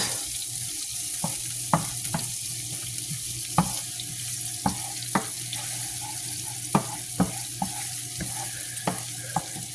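Red onion softening in a pan produces a steady close sizzle and frying crackle, punctuated by irregular scraping and stirring knocks, with no talk.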